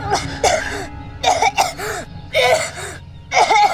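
Repeated harsh coughing bursts, about five, close and loud, each followed by a short strained throat sound, with a low hum underneath.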